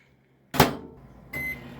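A microwave oven with a newly replaced light bulb starts up with a loud mechanical clunk, followed by a steady running hum that steps up into a brighter, louder drone.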